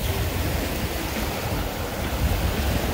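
Ocean waves wash onto a beach in Limon, Costa Rica, on a windy day, a steady broadband surf rush close and fairly loud with no voices.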